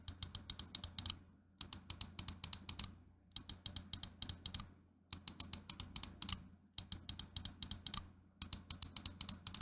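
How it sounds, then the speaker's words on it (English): Side buttons on a Lemokey G2 mouse, fitted with white dot switches, clicking in quick bursts of crisp, close ticks separated by short silences, repeated six times. "In terms of the side click sound, I'll give you a quick little sound test here."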